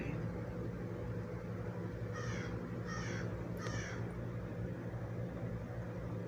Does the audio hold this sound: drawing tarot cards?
no